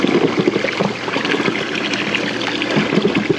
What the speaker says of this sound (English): We got the water shooting out.